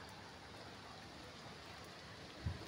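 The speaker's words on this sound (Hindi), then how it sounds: "बूंदें हल्की हल्की हो रही हैं।" Soft, steady hiss of light rain falling on a rooftop in Ghaziabad, faint and even throughout, with one small thump just before the end.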